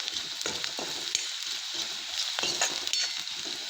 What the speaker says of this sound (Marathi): कांदा चांगला तेलामध्ये होऊ द्यायचा आपण